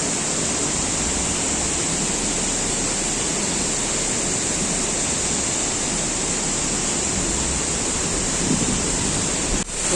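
Steady, dense roar of a waterfall in Nice, France, heard close and loud as continuous rushing water with no speech, holding evenly for the full length before a slight shift at the very end.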